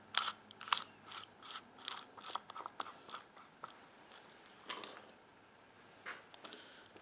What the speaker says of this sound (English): So you see it cracks nuts.